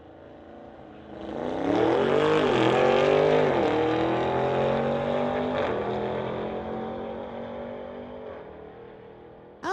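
A race car accelerates hard down a drag strip on a 10.77-second, 131 mph pass, a loud engine roar climbing through the gears before easing off as it pulls away, with no talk over it.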